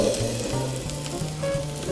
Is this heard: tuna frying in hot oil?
yes